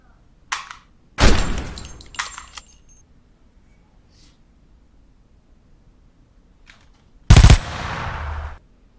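Two sharp gunfire bursts added as sound effects for muzzle flashes ring out loud and close, separated by quiet, with a few faint clicks before the first.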